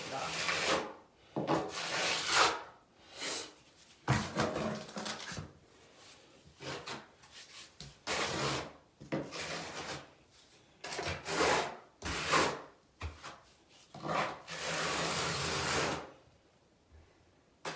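Excess tile adhesive being scraped off a shower wall with a hand tool, repeated rough scraping strokes in uneven bursts, close and fairly loud with short pauses between passes.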